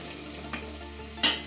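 Spices and chopped coriander stirred in a hot pan for a spicy Maharashtrian ukad shengole, with a steady close sizzle, a soft scrape midway and a sharper clatter of the spoon near the end.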